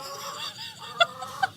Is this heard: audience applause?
no